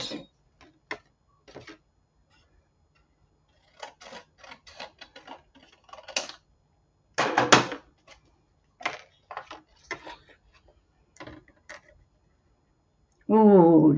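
Scissors trim a piece of white paper with a handful of soft, scattered snips and short crisp cuts spread through a quiet room, followed by a louder burst at the end.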